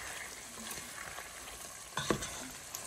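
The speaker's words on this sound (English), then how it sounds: "So I'm frying it right now." Continuous sizzling and crackling of meat frying in a pan for ayamase stew, close up, with a brief clatter of stirring near the end.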